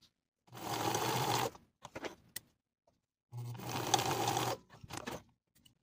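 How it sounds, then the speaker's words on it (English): Two bursts of a sewing machine basting the top edges of trouser pleats, each a steady rapid stitching run of about a second, with quiet handling clicks between them. "Then we're going to baste the top edges of the pleats in place for both front pants."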